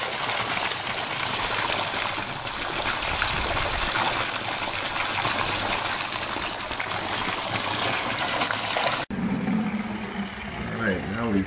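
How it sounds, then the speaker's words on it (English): A submersible pump pushes water through a filtration system into a 5-gallon bucket, making a loud, steady gushing rush with a mechanical hum underneath, then cutting off to quieter splashing near the end. "now we've hooked up our new submersible pump to water filtration system. It's filling 5 gallons in about 45 seconds."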